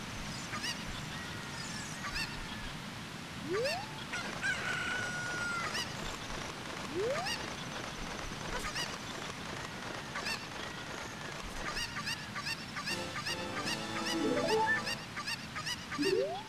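A Cucco chicken in The Legend of Zelda: Ocarina of Time gives several short, separate squawks over a steady, rushing game ambience. No one speaks.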